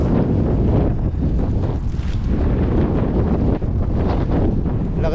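Strong wind roars and buffets the microphone continuously on a rocky shore, a heavy low rumble that drowns out everything else, with a hint of water in the background.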